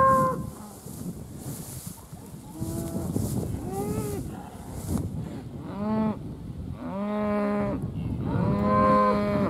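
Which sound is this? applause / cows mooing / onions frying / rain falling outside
cows mooing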